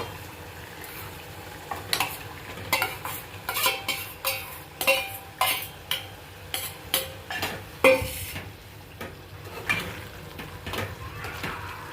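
Mixed vegetables stirred into a cooked gravy, a series of regular spoon scrapes and metallic clinks against the pot, roughly one every half second, over a low simmering sizzle, close and fairly loud.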